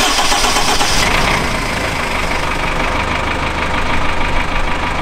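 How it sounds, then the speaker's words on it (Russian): GAZelle Business Next van engine cranking and catching, then settling into a steady, loud mid-pitched idle that runs on evenly at close range. "Теперь можно заводить автомобиль и убедиться в работоспособности."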